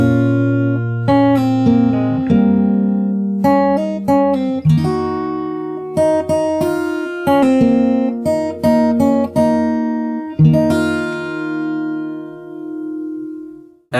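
Fingerstyle acoustic guitar plays the intro of a song: clear plucked notes and rolled chords in a steady rhythm, close and fairly loud. The last chord rings out and fades alone.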